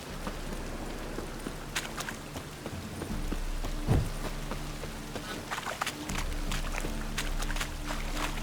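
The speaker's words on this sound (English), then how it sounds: "Rain again." Steady rain falls in The Witcher 3 game world, a continuous broadband hiss with scattered taps and a dull thump partway through, and no speech.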